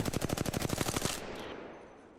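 R-301 rifle firing in Apex Legends, a fast burst of about twelve loud, close shots on full auto that stops after a second, followed by a fading echoing tail.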